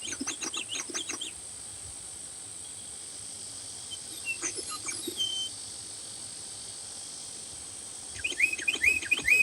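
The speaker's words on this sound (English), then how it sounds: "They said it goes off every hour, a different bird." A bird-call clock chimes its hourly birdsong, thin repeated chirps and trills sounding faintly indoors over a hiss, with a louder burst of calls near the end.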